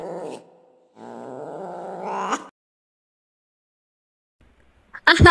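A cat growls in the Sakura School Simulator game, two low rumbling growl bursts close up, followed by silence and then a short sharp burst of sound.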